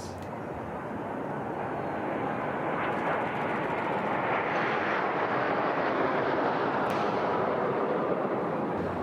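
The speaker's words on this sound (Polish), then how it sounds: "Cztery jastrzębie. Samoloty myśliwskie." A loud, roaring jet engine rumble sweeps overhead as four Hawk fighter jets pass during Queen Elizabeth's Platinum Jubilee flypast, a sustained broadband roar building and holding, no speech.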